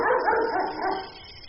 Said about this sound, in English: Since when does Jonas have a dog?